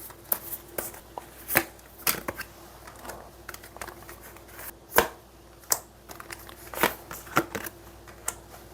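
Tarot cards shuffled and drawn at a close, quiet table: irregular riffling and snapping card strikes, some sharp flicks and slaps among soft sliding, with a faint steady hum underneath and no talking.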